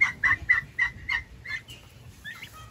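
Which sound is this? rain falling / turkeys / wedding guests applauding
turkeys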